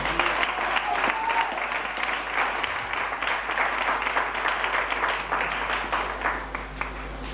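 A church congregation at a Sunday service claps and applauds loudly and steadily, a dense, continuous wash of many hands that holds for the whole stretch without a break.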